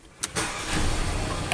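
A Mercedes car engine cranking and catching, a brief starter whir then a loud, steady running rumble close by.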